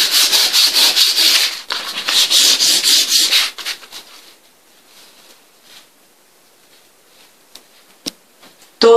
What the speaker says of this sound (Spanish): Tomo un pedacito de lija número 400 y lijo.